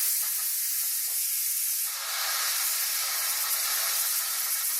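Steady, loud steam hiss rushing from a pressure cooker's release valve during a bone broth batch, continuous and close with only a slight dip midway, no voices.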